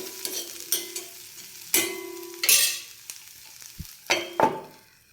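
Chopped onions and spice powders being sautéed in a pan, with a soft steady sizzle broken by several sharp scraping strokes of a spoon stirring against the metal, close and clear, with no voices.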